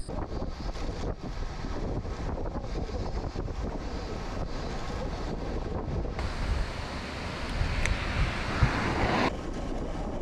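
Strong tailwind buffeting a microphone while cycling the Nakasendo toward Matsumoto in Japan ahead of a typhoon, a steady loud roar of rushing wind that swells slightly near the end, with no talking.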